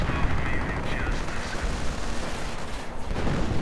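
In a strategy video game, dense artillery fire rumbles as a continuous loud barrage of booms and blasts, with no distinct pauses across the short stretch.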